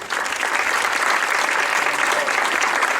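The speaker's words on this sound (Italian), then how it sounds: "Un applauso a Eugenio." Steady, fairly loud applause from the audience at a children's music recital in Parenti, welcoming seven-year-old Eugenio, continuous dense clapping with no pauses.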